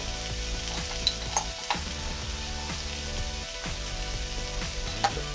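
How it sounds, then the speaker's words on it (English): Minced garlic sizzles in a hot pan as a rotisserie chicken quesadilla filling cooks, a steady close frying hiss broken by a few scraping stirs and clicks. "gonna add up a little bit of minced garlic to that for some flavor"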